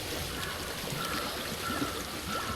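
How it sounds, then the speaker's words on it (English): A flowing water stream in Hellblade: Senua's Sacrifice, a soft, steady trickling rush that runs continuously at low level with no talking. "I hear water."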